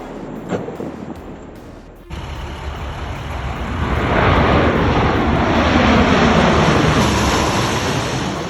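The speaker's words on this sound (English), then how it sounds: "the aircraft collides with a barrier during touchdown" A fixed-wing aircraft touches down and strikes a barrier. A brief quiet stretch is followed by a sudden jolt, then a loud, broad engine roar and rushing noise that builds and holds steady to the end.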